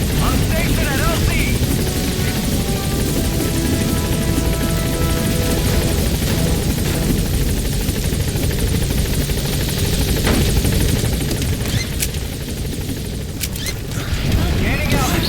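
The B-Quad helicopter in Metal Gear Solid 5 arriving at a landing zone, its loud, continuous rotor drone filling the scene, with in-game radio speech over it.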